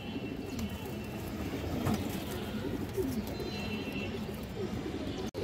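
Pigeons kept at a farm coo faintly and repeatedly in soft low phrases within a busy, noisy background, with possible murmured voices.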